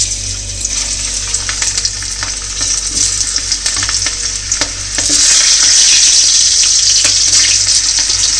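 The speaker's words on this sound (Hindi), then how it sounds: "तो मैं ये मैंने डाल देता पहले थोड़ा आलू को फ्राई कर लेना चाहिए क्या।" Potatoes and eggplant frying together in a hot kadhai over low heat, a loud continuous sizzle with frequent stirring clinks and scrapes that swells louder partway through.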